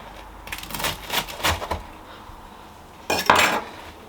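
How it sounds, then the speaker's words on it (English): Knife chopping a ham and cheese toastie made in an air fryer, a few sharp clacks of blade on board in two short clusters with quiet pauses between. "let's chop one of these up."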